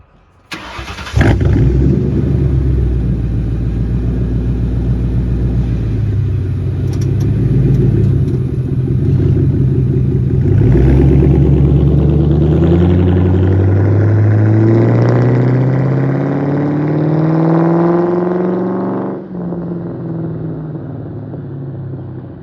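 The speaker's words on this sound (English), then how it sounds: "this is a little clip of my friend's muffler delete on the GT" A 2003 Ford Mustang GT with a muffler delete idles loudly, then revs up in long rising sweeps before settling back, a raw, close V8 rumble with no talk over it.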